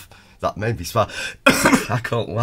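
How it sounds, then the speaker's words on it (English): A man clears his throat and gives a short cough between bursts of his own close, steady speech. "it made me cough"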